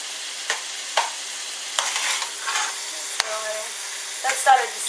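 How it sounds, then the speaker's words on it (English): Onion, tomato and sauce stirred into a sizzling pan for spaghetti bolognese, with a steady fry hiss broken by a handful of scraping utensil strokes close by and no talk. "we're just going to stir our onion and our tomato and our sauce in"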